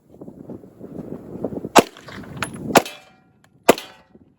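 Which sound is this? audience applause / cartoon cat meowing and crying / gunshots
gunshots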